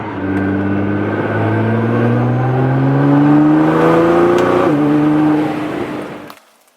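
A Nissan GT-R with downpipes and a catless exhaust revs loudly and close, its engine tone climbing steadily, dipping once, then holding before cutting off abruptly near the end.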